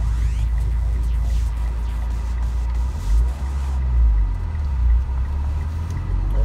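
A Mitsubishi Evo X rolls to a stop from inside the cabin, with a steady heavy engine rumble and road hum that stay loud throughout and dip slightly as the car slows.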